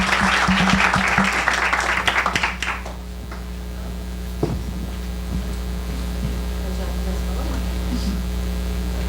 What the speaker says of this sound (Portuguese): peço aí uma salva de palmas para a Fabiana Costa